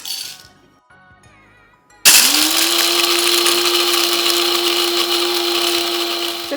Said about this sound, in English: We're gonna do 25 grams of coffee. So we're gonna grind it up here.